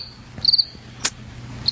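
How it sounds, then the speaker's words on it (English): Crickets chirp as a sound effect: a few short, high, shrill trills separated by quiet gaps, heard close and alone. "More crickets, huh?"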